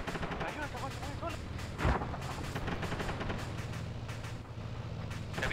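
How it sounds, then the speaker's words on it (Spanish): Heavy 7.62 gunfire in Arma 3 during a clan combat mission, a sustained run of loud, rapid shots with some echoing booms, continuous for several seconds under background chatter. "Hay una weá brígida disparando, weá. Una 762 o más."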